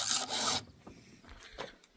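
A chainsaw chain is filed by hand with one hand, giving a short burst of harsh rasping strokes, close and fairly loud, followed by softer scattered scrapes.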